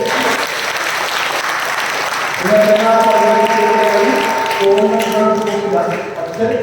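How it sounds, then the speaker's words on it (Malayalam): An audience at a parish retreat breaks into steady, close applause, with a sung or spoken voice carrying over the clapping partway through. "കൈയടിച്ച്"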